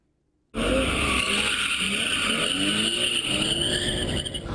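After a moment of silence, a street racing car bursts around a corner with loud screeching tires and a roaring engine, skidding continuously as it swings through the turn, in Tbilisi.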